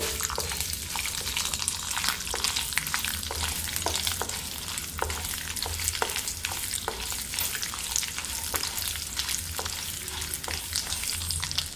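Steady crackling sizzle of urad dal and spices frying in hot oil as a tempering, with occasional sharper pops and stirring scrapes throughout.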